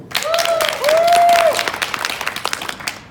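Convention crowd at Marscon applauding, a full burst of clapping mixed with a whooping cheer near the start, then thinning out toward the end.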